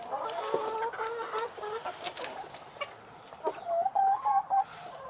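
Backyard coop chickens clucking nearby, with repeated soft cackles and some scratching and rustling among them, at moderate volume and without speech.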